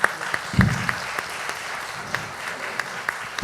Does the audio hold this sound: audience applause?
yes